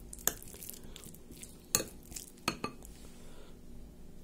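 A spoon scrapes and clinks against a bowl while chicken salad with Worcestershire sauce is stirred, giving a few sharp clinks spaced apart over soft, quiet mixing sounds.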